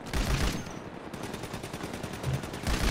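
Sustained rapid automatic gunfire from a weapon in GTA 5, loud, close and continuous, with a couple of heavier thumps mixed into the burst.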